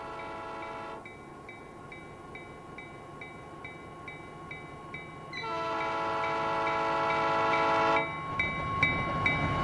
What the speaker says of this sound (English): the EMD GP7 locomotive, with a local homestead freight train home